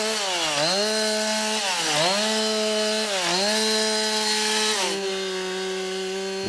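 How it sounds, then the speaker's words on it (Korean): An electric saw cuts wood in a timber workshop where houses are built, its loud motor whine dipping and recovering in rhythmic strokes as the blade bites, then settling to a steady hum; no talking. "전기톱으로는 나무를 자르고"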